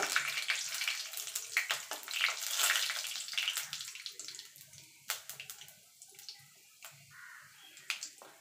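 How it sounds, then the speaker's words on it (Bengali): Panch phoron spices spluttering in hot oil, sharp irregular pops and crackles over a soft hiss, close by and uneven in rhythm; no talking. "এবার ফোড়নটা একটুখানি ভাজা ভাজা করে নেব।"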